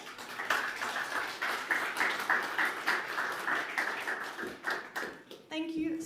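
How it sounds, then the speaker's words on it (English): An audience at a PyCon conference talk bursts into sustained applause, a dense, even crackle of many hands clapping for several seconds, with voices audible beneath it. "Just a round of applause."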